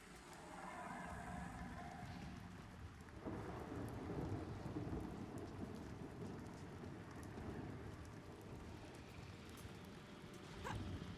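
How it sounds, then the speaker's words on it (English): Steady rain and rumbling thunder from the video game Pantheon: Rise of the Fallen form a dense, continuous wash. A deeper thunder swell rolls in partway through. "I'm really a fan of the rain sounds."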